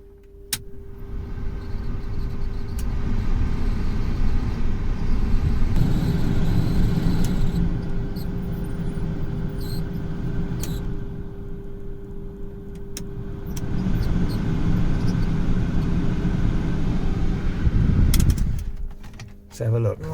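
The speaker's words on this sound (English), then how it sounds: "if I put the ignition on and turn the blower on" Heater blower fan on a Mercedes Vito W639 van running with the ignition on, a steady broad whoosh with a constant hum, swelling slightly midway and cutting off near the end amid faint handling noises.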